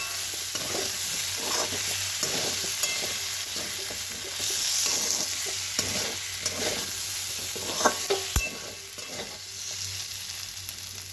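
Masala frying in a pan and being stirred, steady sizzling with repeated scraping strokes in an even rhythm, close and clear, with a sharp clink near the end and no talk.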